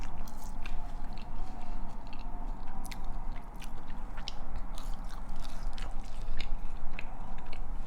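Nando's chicken wings being bitten and chewed up close, wet crunchy mouth sounds and chomps repeating steadily over a constant low background hum, with no speech.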